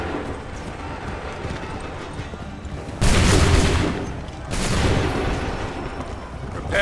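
Musket volleys crack out in the video game Assassin's Creed 3, two loud broad blasts a second or so apart, each trailing into a rumbling decay over a steady background of battle noise.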